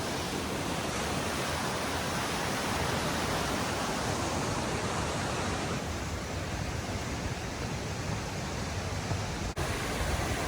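Steady, dense rush of water as Deer Creek tumbles toward Stafford Falls in Mount Rainier National Park, constant and loud throughout with no voices.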